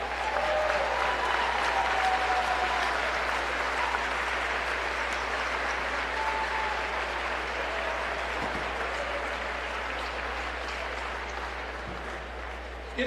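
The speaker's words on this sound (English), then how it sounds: "Let's give them a round of applause." A gym crowd at a Roncalli vs Guerin Catholic high school basketball game applauds former players, managers and coaches with long, steady clapping that slowly tapers off.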